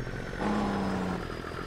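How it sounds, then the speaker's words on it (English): Truck engine brake during farm work, a loud steady mechanical rumble and drone with a short rising tonal whine in the middle. "Trying not to talk through the engine brake here, it's a little loud, I know."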